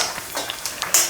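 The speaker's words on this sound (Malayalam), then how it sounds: "അരി പൊരിക്കണം." Rice fries in a pan for Kerala-style cheera thoran with a short burst of sizzling and a few quick scraping stirs, loud and close.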